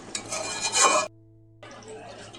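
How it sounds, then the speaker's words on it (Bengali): A spoon stirs and scrapes chicken being cooked down in a pan, with clinking and rasping for about a second. After a short quiet gap a softer scraping returns. Nobody talks. "একটু নেড়ে চেড়ে নিই"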